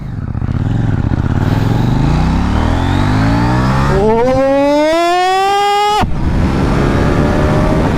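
A KTM 790 Duke motorcycle in track mode with quick shifter revs hard on a ride, engine pitch climbing through gears in rising sweeps, then a sharp high rev that cuts off abruptly before the engine drones on, loud and close.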